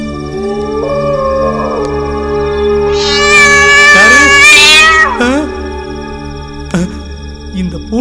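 A cat in a Tamil comedy thriller film lets out long, drawn-out wailing meows, loud and close, rising and falling over a steady humming drone.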